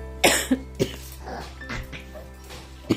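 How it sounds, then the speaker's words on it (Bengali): A person coughs in a quick series of sharp, close bursts, several harsh coughs spaced irregularly with a faint steady hum underneath. "পুরো কাশি হচ্ছে আমার"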